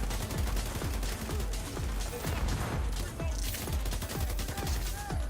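Rapid gunfire in The Division 2 shooter game, with long-range assault rifle shots cracking in a steady, dense rhythm for several seconds, each report thumping close and loud.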